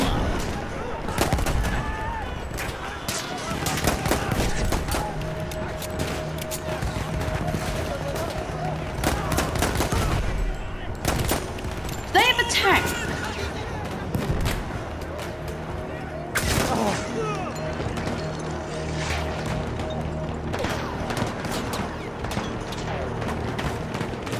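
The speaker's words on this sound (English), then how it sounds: "It's really hard to hit with this pistol" Pistol fire in the video game Battlefield, sharp shots scattered irregularly through a busy, dense game mix of rumbling explosions and effects, with someone talking over much of it.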